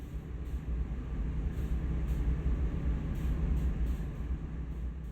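Freight train of 20 cars in Train Sim World during a brake application, heard as a steady low rumble and rolling hum with faint hissing air, continuous and fairly loud with no talk.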